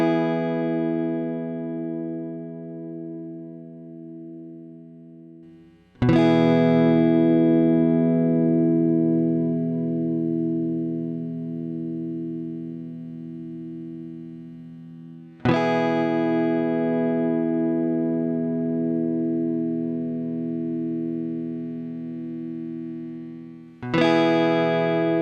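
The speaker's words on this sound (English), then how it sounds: "All of these pedals are set to similar volume and compression levels, so let's compare the tone and sustain they impart." Electric guitar through compressor pedals from Wampler, Keeley and Mooer: three separate struck chords, each ringing out with long, even sustain for several seconds before the next attack, alone and up close.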